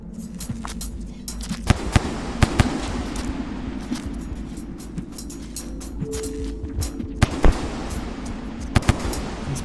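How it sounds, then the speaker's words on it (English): Explosions in the video game Rain World with the DroneMaster mod: repeated sharp cracking bursts scattered irregularly over a dense, rumbling in-game din, loud and close. "there's a lot of explosions going on"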